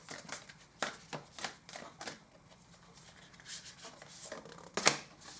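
Tarot cards are shuffled in a quick run of crisp riffling bursts and soft flicks, close and fairly quiet, ending with a sharper snap.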